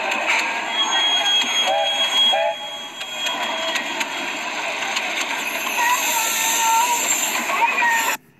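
Miniature railway trains pulling into Kingsmere station during a summer gala, a steady rumble of wheels and track with squeals and whistle-like tones throughout, fairly close and loud, with a crowd murmuring in the background.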